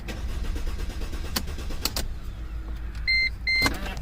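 A 2006 Mercedes-Benz C350 4Matic engine cranks over with a loud, steady churning, broken by sharp clicks and a pair of short electronic beeps near the end.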